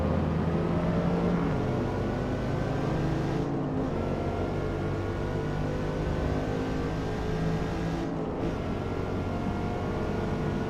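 Mercedes C63 race cars roaring in Gran Turismo 7, a loud, sustained engine drone with rising revs and shifting pitch, two brief gaps where the sound dips, and no talking.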